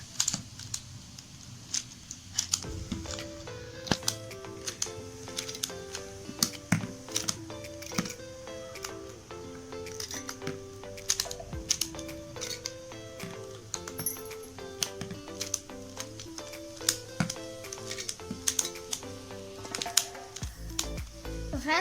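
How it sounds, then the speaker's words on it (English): A pyramid-shaped twisty puzzle is shuffled by hand, giving a continuous run of quick plastic clicks and ratchety turns throughout, with music playing underneath. "I'm shuffling it first."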